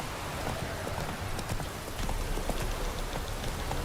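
Roach the horse galloping in The Witcher 3, rapid hoofbeats pounding steadily over a wash of rain and ambient noise, fairly quiet with no talking.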